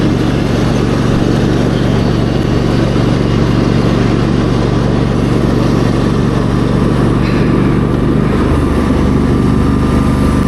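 A ride-on mower with its cutter blades running makes a loud, constant engine drone and rumble close by, steady throughout with a slight change near the end and no talking.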